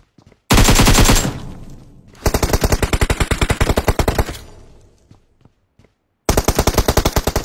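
Automatic gunfire in the PUBG battle royale video game comes in loud, close bursts of rapid shots separated by short pauses, with one long sustained burst in the middle.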